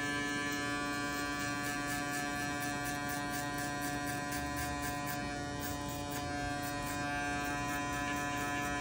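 An electric hair clipper fitted with a number 1 guard runs steadily, buzzing as it cuts afro hair for a fade, a close, continuous motor hum with no talk.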